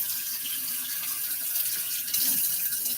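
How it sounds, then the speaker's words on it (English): Hot water running steadily from a sink tap during liquid soap making, a continuous close hiss of flow that swells slightly louder near the end. "I'm going to grab some hot water from my sink real quick."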